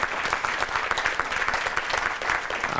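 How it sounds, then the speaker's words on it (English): A conference audience gives a round of applause for the planning committee at an annual membership meeting, a steady, moderately loud patter of many hands clapping together. "if we could give them a round of applause"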